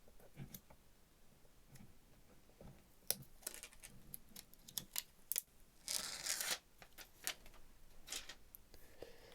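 Protective film peeled off Gravastar Sirius earbuds packaging, crinkling and crackling in short close bursts with a longer tearing rasp midway, against a quiet room.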